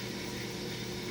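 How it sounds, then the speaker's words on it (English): A dishwasher runs steadily in the background, a continuous even wash of noise with no breaks. "Got dishes going. You can probably hear that in the background."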